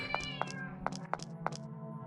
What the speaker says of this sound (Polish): O nie, kotek.